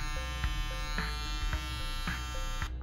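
A Caliber Barber .22 Stinger cordless hair trimmer runs with a steady close buzz for about three seconds, with a few soft clicks and handling knocks before it cuts off at the end.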